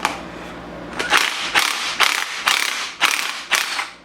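A ratchet cranks on a bolt of a Nissan 350Z engine during timing assembly removal, giving a series of sharp, evenly spaced metallic clicks and clunks close by, about seven strokes in four seconds.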